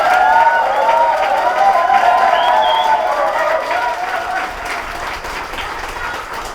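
Loud crowd applause with some cheering at a Korean political party campaign rally, a dense sustained burst of clapping that slowly tapers as it goes on, with no one speaking over it.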